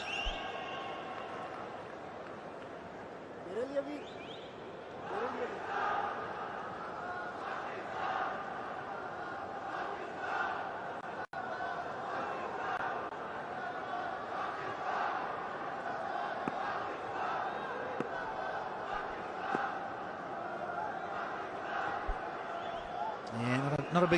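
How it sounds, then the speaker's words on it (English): Cricket stadium crowd at a PSL match between Lahore Qalandars and Karachi Kings, a modest crowd producing a steady, broad murmur of cheering and shouts that swells slightly at times, with commentary voices over it throughout. "Not a big crowd, but certainly getting a little bit more vocal now."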